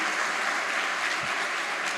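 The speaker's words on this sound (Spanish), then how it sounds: "¿No merece el Señor un aplauso por eso?" A congregation at a church service applauds in a steady, continuous wash of clapping that stays fairly faint and even throughout.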